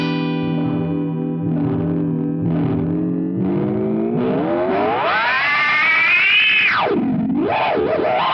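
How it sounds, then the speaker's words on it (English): Eventide H90 delay pushed into self-oscillation: a loud, continuous distorted tone that holds steady, then sweeps sharply upward like a spaceship takeoff, dives back down and wobbles, alone with no voices. "use self-oscillation, then you can just start with a long delay, bring it down, and get that smooth, crazy spaceship takeoff effect"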